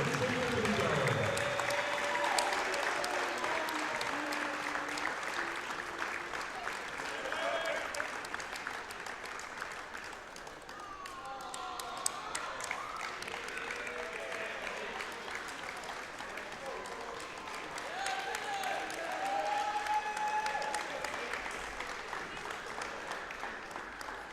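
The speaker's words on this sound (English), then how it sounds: "Ladies and gentlemen, one more round of applause" Sustained crowd applause at a college men's basketball game honoring a senior player, a long, even roar of clapping in a gym with an announcer's amplified voice coming through over it.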